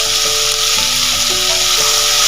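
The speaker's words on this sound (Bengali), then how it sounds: "হালকা ভেজে নেব দেখুন হালকা ভেজে নিয়ে এবারের মধ্যে আঙুরগুলো দিয়ে দেবো" Grapes sizzle and fry in a hot pan for a Bengali grape chutney, a steady close crackle with a few faint tonal whines running underneath, no voices.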